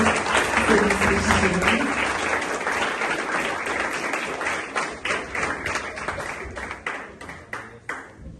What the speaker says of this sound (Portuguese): Vamos bater palmas para Deus